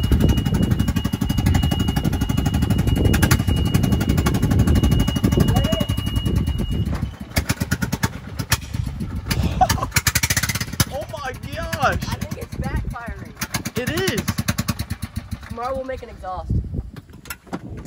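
A loud, rough, straight-piped golf cart engine roars for several seconds, then keeps rumbling more quietly while people talk over it.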